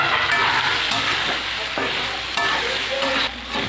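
Soybean chunks seasoned with salt and turmeric fry in a pan, a loud steady sizzle with scraping stirs and a few clinks from the utensil.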